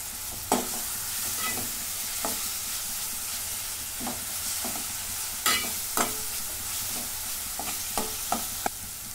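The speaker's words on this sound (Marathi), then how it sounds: "2 लवंग, आलं, लसूण आणि कोथिंबीर. आता हे पण 2 मिनिटं मी परतून घेते." Cloves, ginger, garlic and coriander are sautéed in a pan, giving a steady close sizzle broken by regular sharp clicks and scrapes of a spoon against the pan.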